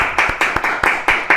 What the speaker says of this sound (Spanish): Vamos a recibir con un fortísimo aplauso a nuestro siguiente invitado